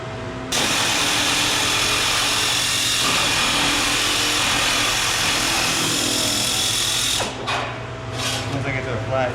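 A power cutting tool rips through sheet metal for a driveshaft tunnel enclosure, a loud, steady, harsh whine running unbroken for several seconds before it cuts off, followed by a couple of short bursts.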